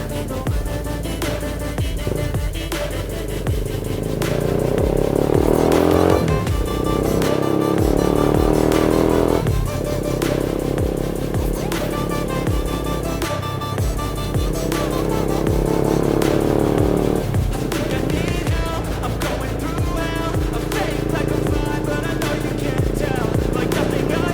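Motorcycle ridden through the province around Odiongan, Romblon, its engine droning loud and close for the whole stretch, pitch rising and dropping through several speed changes and gear shifts, with wind and road noise but no clear talk.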